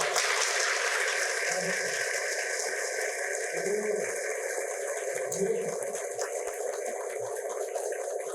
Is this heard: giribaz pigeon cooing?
no